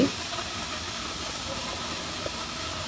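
Chicken meat, a kilogram of it, dropped into a hot pan of fried spices gives a loud, steady sizzle and hiss that starts at once and carries on unbroken and close, with no one speaking.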